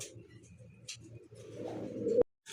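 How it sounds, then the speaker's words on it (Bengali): A pair of Shua Chandan pigeons coo softly in a low, steady murmur that rises slightly before ending in a sharp click. "এখানে কিন্তু এক জোড়া সুয়াচন্দর কবুতর দেখতে পাচ্ছেন"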